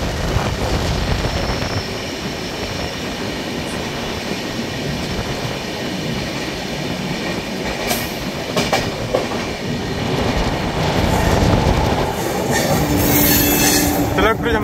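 The Humsafar Express rolls along and gathers speed, with wheels clattering over rail joints, squealing now and then, and a steady rushing rumble throughout, heard from on board with no talk.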